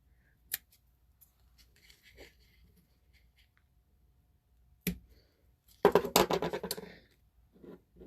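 Scissors snip ribbon trimming a small bow: a few soft isolated cuts, then a close cluster of quick crisp snips.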